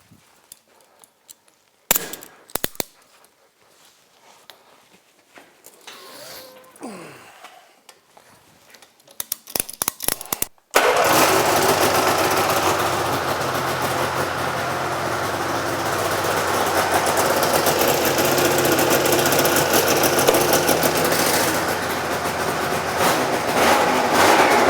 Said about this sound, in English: So I'm just going to fire it up, pick the back end up off the ground,